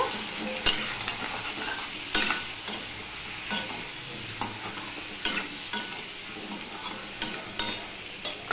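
Papaya and fish pieces being stirred with turmeric and salt in a frying pan, giving a steady oily sizzle broken by repeated scraping spoon strokes, close and fairly loud, with no talking.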